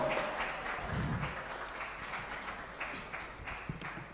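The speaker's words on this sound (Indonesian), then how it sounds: "Kita berikan aplaus untuk semua peserta." Audience applause fills the hall at a Quran comprehension competition final, a scattered, fairly faint clapping from a crowd that continues steadily throughout.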